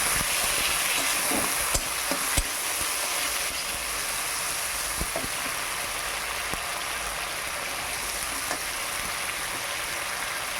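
Mustard, cumin and chili paste ground on a grinding stone, with turmeric, frying steadily in a pan, a continuous close sizzle with occasional stirring clinks, no talking.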